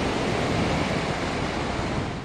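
Ocean surf rolls in at a beach paddle-out memorial for a local surfer, a loud, continuous wash of breaking waves and wind with no talking.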